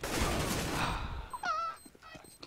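Gunfire from an R8 revolver in competitive Counter-Strike: Global Offensive, a dense burst of loud shots followed by fainter scattered game sounds and pops.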